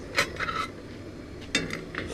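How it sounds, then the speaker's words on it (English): A utensil scraping and clinking in a metal pot while something is stirred, a few short clanks and rubs at the start and again near the end, quiet and close. "Just stir it around a little."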